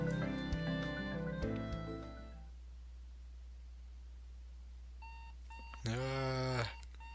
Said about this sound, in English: Let it out, alarm.